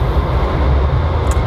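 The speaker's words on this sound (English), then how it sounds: "The train is moving." Interior of a moving, empty passenger train, a loud steady rumble of wheels and carriage noise with a constant hum and no talking.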